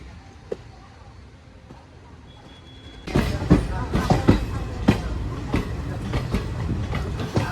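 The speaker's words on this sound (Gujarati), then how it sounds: "મિત્રો હજી ટ્રેનની સ્પીડ નોર્મલ છે અને તમે આપણે જુનાગઢથી નીકળ્યા છીએ" A train leaving Junagadh junction, heard from inside a crowded general coach: quiet at first, then a loud rush of running noise with repeated clattering wheel knocks and rattles, people talking faintly.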